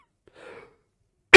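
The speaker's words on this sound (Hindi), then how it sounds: "खांसी हो गई यार।" A single sharp cough, close and loud, bursting out at the end after a brief faint murmur and near silence.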